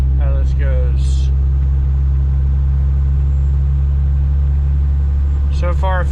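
A vehicle fitted with new semi wheels cruises down the road, a loud steady low rumble of engine and road noise throughout, with someone speaking briefly at the start and end.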